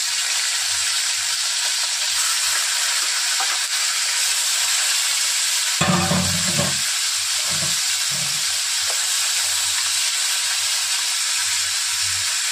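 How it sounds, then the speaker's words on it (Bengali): Steady loud sizzling of hot oil fills the clip, with a burst of crackling and bubbling in the middle as hilsa fish hits the pan. "এবার তেলটা গরম হয়ে গেছে, এবার মাছটা দিয়ে দিই।"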